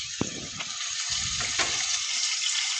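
Cabbage and potato pieces fry in a pan for a cabbage-potato curry, with a steady bright sizzle and a few soft clinks and stirring thumps near the start.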